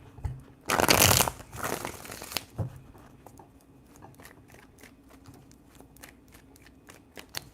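Tarot cards being shuffled by hand, a brief burst of riffling and flicking near the start, then soft scattered taps and card handling in a quiet room.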